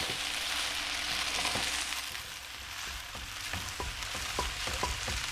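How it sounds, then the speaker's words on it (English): Noodles fry in a pan with a bit of added canned liquid, giving a constant hiss of sizzling with occasional soft stirring clicks, fairly close and steady, with no voices. "you'll hear like it's really sizzling"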